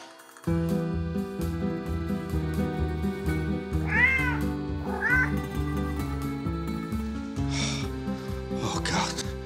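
A cat meows in a few short, rising calls over a sustained, music-like backdrop of steady tones, the calls spaced a second or more apart.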